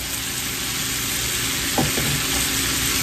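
Smoked sausage, potatoes, onion and bell pepper sizzle steadily in a skillet, a dense continuous crackle, with a couple of brief scraping stirs of a utensil partway through.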